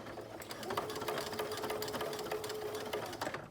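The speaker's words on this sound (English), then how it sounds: "And then I'm actually going to back stitch" A sewing machine back stitching through a blanket fabric cardigan, a close, rapid steady rattle of stitches running for several seconds before stopping, with no talk over it.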